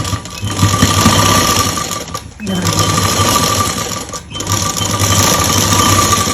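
A sewing machine stitches a seam on a garment, running in steady loud bursts with two brief pauses, its rapid mechanical chatter close and continuous.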